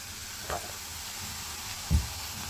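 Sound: bitter gourd pieces frying in oil

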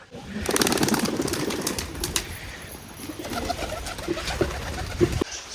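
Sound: pigeons cooing

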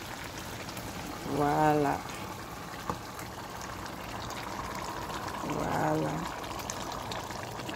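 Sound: prepared fish poured into the pot of cooking pondu

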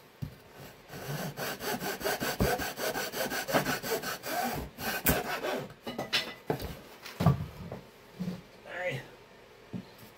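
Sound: sawing wood to trim an RC plane aileron to length

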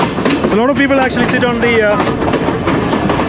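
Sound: scenic train running in Sri Lanka

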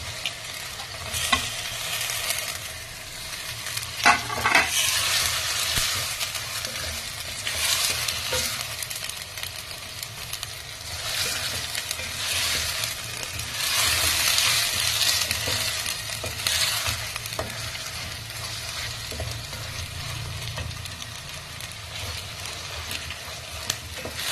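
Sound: frying chopped tomatoes in a pan

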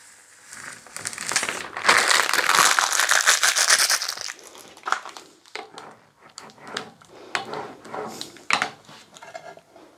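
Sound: peeling reflective vinyl off slate

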